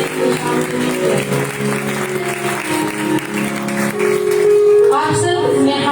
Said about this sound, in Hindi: तो हम सबको भरपूर तालियों के साथ